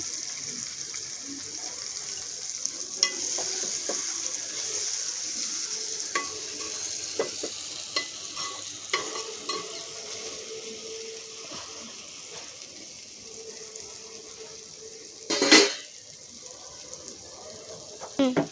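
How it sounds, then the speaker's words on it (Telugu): Spices and ingredients for an Andhra-style prawn gongura curry fry in a pan with turmeric added. A steady close sizzle continues with intermittent stirring scrapes and a louder clatter near the end. "ఇదిగోండి ఇలా వేగుతూ ఉన్నాయి కదా"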